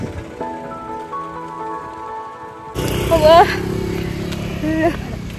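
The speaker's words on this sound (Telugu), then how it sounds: "వర్షం." Rain begins suddenly partway through in Chikkamagaluru, a loud broadband hiss of drops on surfaces, with voices talking over it.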